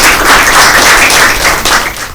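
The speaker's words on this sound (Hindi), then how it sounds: "इनके लिए भरपूर तालियां।" Loud, close applause breaks out from the audience at a Christmas Bible quiz, a dense burst of clapping hands that holds steady for a couple of seconds before starting to trail off.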